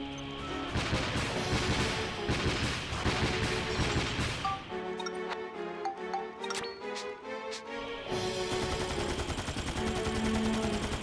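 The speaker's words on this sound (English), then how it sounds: "machine gun's just more fun" Rapid machine-gun fire in the video game Dark Cloud 2, dense continuous bursts with a denser, harsher stretch in the middle, loud and unbroken over background game music.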